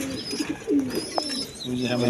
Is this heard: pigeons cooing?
yes